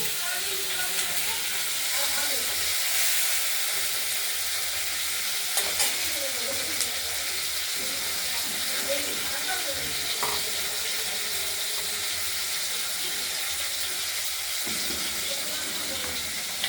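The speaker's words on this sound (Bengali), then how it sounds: "আমরা এর সঙ্গে দিয়ে দিলাম আলু ভাজার সঙ্গে। এটাকে আমরা ভাজা ভাজা করে নেব।" Potatoes fry in hot oil in a pan, a loud continuous sizzle that stays close and steady throughout, broken by occasional stirring scrapes and light utensil knocks.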